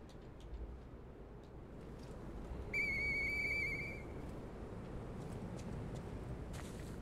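A police whistle in the video game Lies of P gives one sharp, shrill blast lasting about a second, loud and close over a steady low background rumble.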